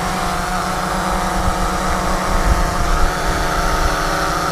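A DJI Phantom 3 Professional quadcopter flies outdoors on a breezy day, giving off a constant loud, buzzing rotor hum that holds steady throughout with no talk.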